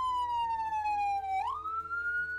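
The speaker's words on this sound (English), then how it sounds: "Here's our ambulance. I can hear it." Ambulance siren in the Emergency 4 video game, a loud, clean wailing tone that sweeps down, dips, then rises again, heard alone with no talk.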